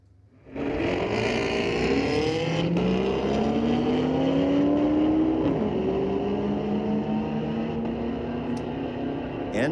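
A drag-racing car, a Camaro, roars down the strip at Mission Raceway Park on a Friday night street-legal drag night, its engine note loud and climbing steadily through the gears, sustained for nearly ten seconds with no talk.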